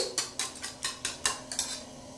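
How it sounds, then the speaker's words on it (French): A spoon scraping around a bowl while mixing a protein hair mask paste, regular rhythmic strokes about five per second apart, close and clear with no talking. "Vous mélangez bien, très bien, jusqu'à ce que vous obtenez une pâte homogène"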